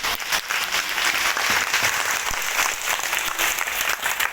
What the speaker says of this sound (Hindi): आप लोग ताली को थोड़ा मजे से बजा दिया करो